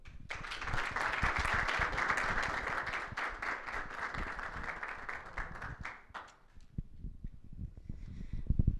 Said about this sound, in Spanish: un fuerte aplauso para Priscila Pereira